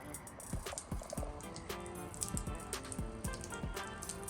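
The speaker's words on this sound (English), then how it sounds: "And I do see water dripping already." Water drips from the racetrack tail light of a 2017 Dodge Durango R/T, a close, irregular series of small plops and drips against faint background noise.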